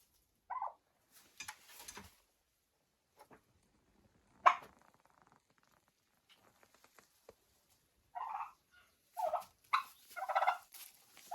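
Turkeys in a chicken coop let out short, scattered gobbling calls, close and fairly quiet, separated by silent gaps.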